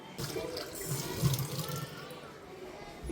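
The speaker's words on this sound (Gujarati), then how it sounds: "એમાં પછી આપણે એમાં પાણી ભરશું." Tap water runs steadily into a glass tumbler at home, a continuous splashing pour held close and fairly loud for about three seconds.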